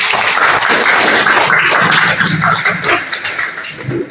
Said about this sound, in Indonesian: Tepuk tangan untuk Ahmad Rifai